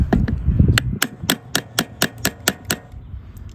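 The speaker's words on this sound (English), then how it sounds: "So use your make-do hammer." Sharp metallic taps strike a clamp on a Honda Odyssey sliding door roller, about a dozen evenly spaced close knocks from a makeshift hammer, after some brief handling noise at the start.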